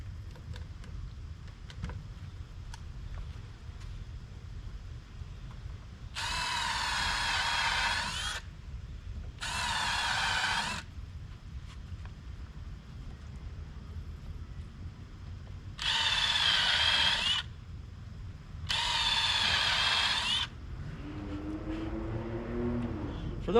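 Adjustable Milwaukee countersink bit drilling into wood while building a shed wood rack, four separate bursts of a high whining power drill, each a second or two long, with quiet gaps between them.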